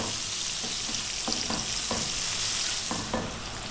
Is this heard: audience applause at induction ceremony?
no